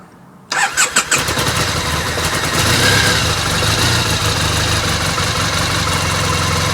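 A Triumph Bonneville motorcycle engine cranks briefly with the choke on, catches quickly and settles into a steady, close idle.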